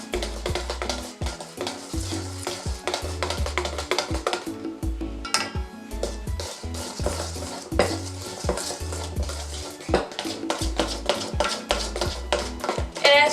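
A utensil stirs and scrapes cake mixture in a bowl, making repeated rhythmic clinks and scrapes over steady background music, close and fairly loud throughout.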